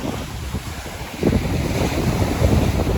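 Rough sea churns and crashes in a steady roar during a fishing trip, with heavy wind buffeting the microphone and surges growing louder partway through.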